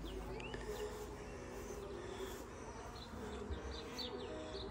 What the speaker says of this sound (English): There's some beehives.